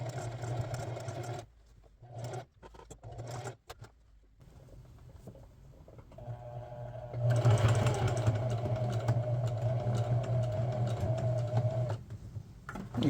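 A sewing machine stitches along the edge of a patch on an Adidas Adizero jersey, a steady motor hum running in stretches with pauses, then ramping up into a louder, sustained run near the end.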